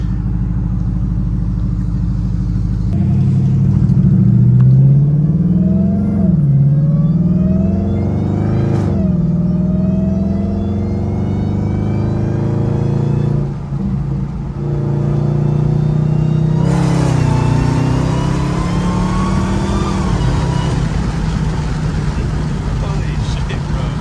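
A 1000 HP Chrysler 300 with a swapped Hellcat engine accelerates hard, its deep exhaust roar rising and falling through several surges with sweeping harmonics, loud and close from inside the cabin, with a brief lift before pulling again.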